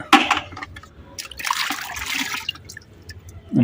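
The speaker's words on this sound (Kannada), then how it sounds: "ಗಿಡಗಳಿಗೆ ನೀರು ಹಾಕ್ಬಿಟ್ಟು ಹೋಗೋಣ" Water splashes and trickles in short bursts, poured onto plants including a tulsi plant nearby, with quiet gaps between the gushes.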